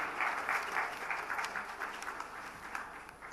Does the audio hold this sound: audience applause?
yes